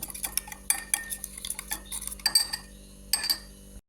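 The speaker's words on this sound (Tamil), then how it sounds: "இதெல்லாம் சேர்த்து நல்லாவே கலந்து விடுங்க" A spoon stirs dipping oil sauce in a bowl for steamed soya dumplings, giving a string of close, bright clinks and scrapes in uneven bursts with short pauses between them.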